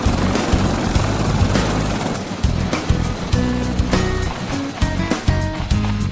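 A newly built airplane in a sea-exploration game comes in to land on an island, a loud, steady engine drone with a rhythmic chopping pulse and musical tones layered over it.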